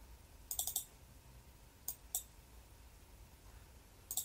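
A computer mouse gives three quick clusters of crisp clicks, two to three clicks in each, close and quiet with pauses between, during 3D model UV mapping work.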